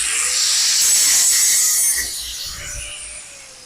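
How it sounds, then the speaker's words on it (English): An angle grinder cuts through metal on a truck, a loud close hiss and grinding rasp that fades as the cut finishes. "Plus I need the grinder over here anyway, so I needed to set up a cord and all that."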